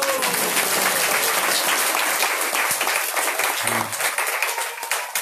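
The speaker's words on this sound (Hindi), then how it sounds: "इसलिए आप लोग के लिए ना खूब जोर से ताली बजाओ" An audience at a Hindi religious discourse breaks into loud, dense clapping right up close, the applause holding strong before thinning and tapering toward the end.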